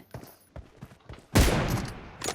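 Gunfire in PUBG Mobile: a few light pops and clicks, then a sudden loud close shot followed by a dense rattling burst of fire.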